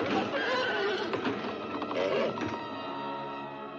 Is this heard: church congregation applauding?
no